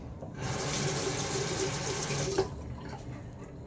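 Water splashes for about two seconds as a face is rinsed after a shave with a Gillette safety razor, a close, steady rush that stops abruptly.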